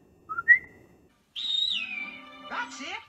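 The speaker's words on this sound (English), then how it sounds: "When you need your conscience, just whistle." A person whistles a short melodic phrase, a couple of brief notes followed by a longer sliding tune, close and clear.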